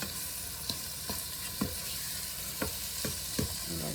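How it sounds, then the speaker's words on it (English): Vegetables frying in a pan with only a little oil and released moisture hiss in a steady, quiet sizzle, with occasional soft stirring scrapes marking a loose rhythm. "made some more moisture come out in the pan, so I didn't have to add too much oil to fry this up today."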